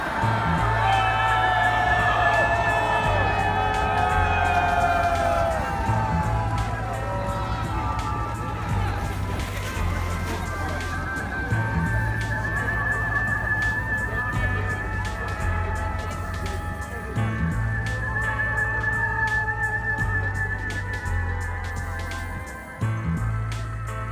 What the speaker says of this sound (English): Every now and then you hear a huge cry go up from the crowd, "Ura!" which means hooray.